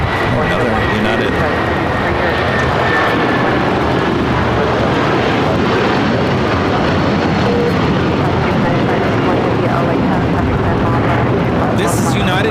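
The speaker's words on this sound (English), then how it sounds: "This is United Airlines 221 taking off to Newark on the 757-300" A United Airlines Boeing 757-300 taking off from LAX for Newark, its jet engines roaring loud and broadband for the whole stretch with a commentator talking over it.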